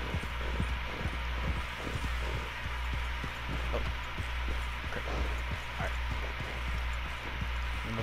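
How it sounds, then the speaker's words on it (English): Hoofbeats from a horse being ridden in the video game Red Dead Redemption 2 thud in a steady, rhythmic gait over a low rumbling hum for several seconds. "This is not how you ride a horse, Gerard."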